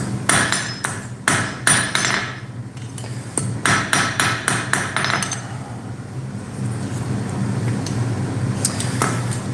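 Metal is hammered straight during forging of a Midgard serpent piece, with repeated sharp ringing hammer blows in uneven bursts, close up, followed by a quieter stretch with a few light taps.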